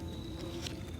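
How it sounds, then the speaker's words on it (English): Bees buzzing close by in a garden, a thin steady drone with a faint hum, quiet and brief, no voices. "The bees are still here too."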